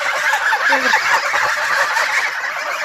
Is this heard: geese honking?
yes